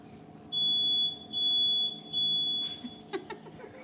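Three long high-pitched electronic beeps sound in a row, each about half a second to a second, like a smoke alarm, followed by faint clicks.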